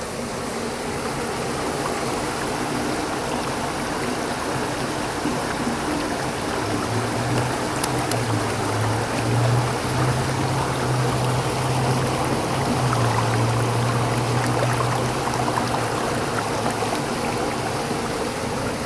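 Steady rushing and gurgling of rainwater pouring out of a drain pipe onto the street, a continuous loud flow with no voices.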